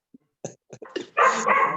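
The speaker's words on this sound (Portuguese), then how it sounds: "Graciete, dá uma ração para esse cachorro, a ver se ele se quieta aí, rapaz" Dog barking in a home in the background of an online microbiology lecture, a few short yelps followed by a louder burst of continuous barking at moderate distance, with no talk over it.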